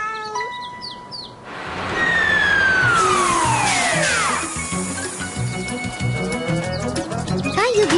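A cartoon fire engine's big red truck siren wails loudly after a brief quiet lead-in, its rising and falling tone sweeping over continuous background noise and chatter.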